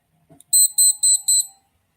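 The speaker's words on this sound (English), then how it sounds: "But I haven't heard the alarm yet. But it does make some noise." An electronic alarm gives four short, shrill high-pitched beeps in quick, even succession, loud and close, preceded by a faint click and followed by silence.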